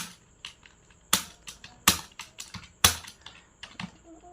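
Typing on a computer keyboard while entering text in Microsoft Word, a steady run of light clicks with a few sharper, louder keystrokes, close by and with no speech.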